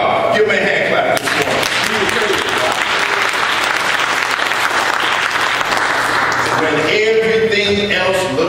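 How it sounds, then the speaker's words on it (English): A church congregation claps hands during a Sunday morning service, loud continuous applause from many people filling the room, with voices calling out over it. "Give me a hand clap this morning."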